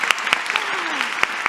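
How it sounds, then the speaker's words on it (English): Audience applause for a woman at a body-language talk: a short burst of scattered claps over a crowd wash, with a few sharp louder claps standing out. "let's give her applause"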